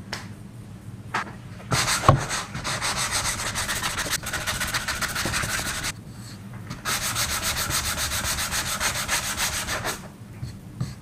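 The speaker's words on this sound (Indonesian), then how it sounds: "Habis itu kita coba amplas." Patched Dutch teak pallet wood is hand-sanded in long, loud, rasping bursts of rapid strokes, with short pauses between them.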